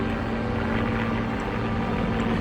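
Aircraft engine drone in the World War II strategy game Blitzkrieg Rolling Thunder, a steady loud propeller hum holding throughout with no pauses or speech.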